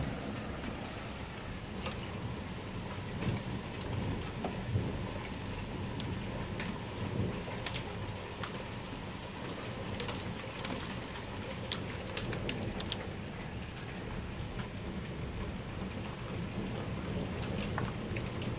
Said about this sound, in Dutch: Kijk die hagel hier.